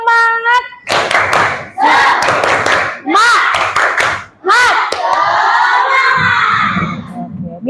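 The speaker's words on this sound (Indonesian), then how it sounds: "kita tepuk semangat dulu" A classroom of children perform the tepuk semangat clapping chant, shouting rhythmic words in unison between bursts of hand claps and thumps, loud and close, with an adult's higher voice leading at the start and some cheering at the end.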